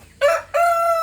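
A rooster crows close and loud, a short opening note followed by a long, sustained harsh call.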